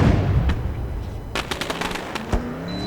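Fireworks burst at a Bootleg Racing League celebration night while cars burn tires and cut donuts, a quick cluster of sharp cracks and pops over a steady roar of engines and crowd.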